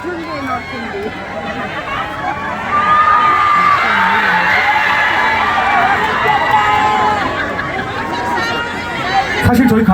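A large outdoor concert crowd at a daily concert during an expo cheers and shouts in a loud, sustained roar that swells midway and stays strong throughout.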